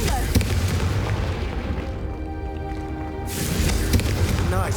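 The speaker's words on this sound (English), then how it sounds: "a Confringo cast travels a bit farther than that of a spell like Incendio" Booming blasts from a Confringo spell explosion in the video game Hogwarts Legacy, loud bursts with a ringing tail between them, and some speech over the noise.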